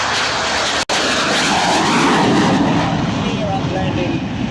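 A propeller aircraft roars past low over the runway at the Biggin Hill Airshow in 2004, a loud sustained engine drone close by that swells and slowly fades, with a commentator's voice partly heard over it.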